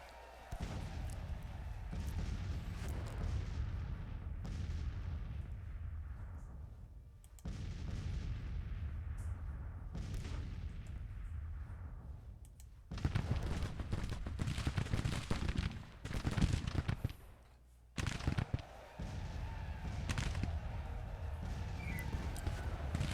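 Cannon and rifle fire in a Civil War tactical battle in the video game Grand Tactician, with dense, continuous rumbling volleys and booming artillery blasts rolling on and off, heavy and sustained.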